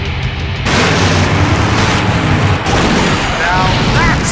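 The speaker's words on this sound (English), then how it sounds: "Now that's an explosion, ladies and gentlemen." A big explosion in the classic adventure video game Full Throttle sets off a loud sustained roar of blast noise and rumbling debris that fills the whole stretch, with a brief quieter moment before the blast starts.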